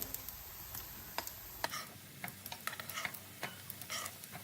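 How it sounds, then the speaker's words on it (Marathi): Moong dal tikki patties shallow-frying in oil on a low flame give a quiet, close sizzle dotted with small ticks and light taps of a turner as they are flipped, faint and alone. "आता दुसऱ्या बाजूनी फ्राय करून घेऊया"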